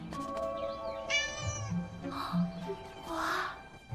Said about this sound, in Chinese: 好可爱的小猫咪